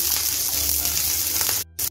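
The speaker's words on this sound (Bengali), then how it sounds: "পেঁয়াজটা একটু ভেজে নিচ্ছি। দেখুন আমি রসুনটাও দিয়ে দিচ্ছি।" Onion and garlic sizzle steadily in hot oil for a prawn dish, a dense close crackle that runs continuously before cutting out abruptly near the end with a brief burst after.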